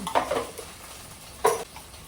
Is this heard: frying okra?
yes